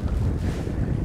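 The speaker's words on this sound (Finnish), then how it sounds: "Toivottavasti saa äänestä jotain selvää, kun on niin kova tuuli" Strong wind buffeting the microphone beside a small wilderness lake in the Nordic backcountry, a steady low rumble with gusty roar throughout, no voices.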